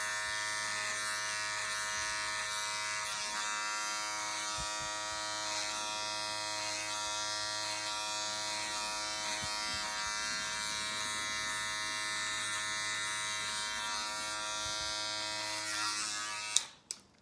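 Electric hair clippers taper a beard with a steady, close, continuous buzzing hum that runs without a break and cuts off abruptly at the end, with no talking.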